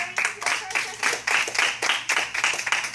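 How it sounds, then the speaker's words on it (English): A small group of children at a kung fu birthday lesson claps a round of applause, close and lively, in uneven bursts of hand claps with a little voice mixed in. "All right, give them a round of applause."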